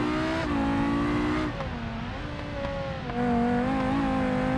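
A race car's engine revs steadily in a racing video game, its tone rising and dipping as it shifts through a braking zone, loud and continuous with no talking over it.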